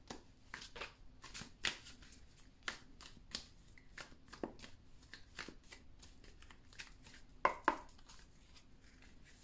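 A deck of tarot cards being shuffled by hand, with a steady run of crisp riffling and slapping card sounds close up, a few sharper snaps standing out near the end, and no talk.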